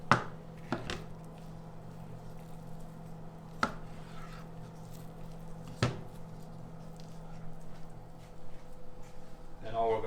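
Soft cooked pumpkin flesh being chopped on a board, a few sharp knife knocks spaced seconds apart over a low steady background hum, close and fairly quiet.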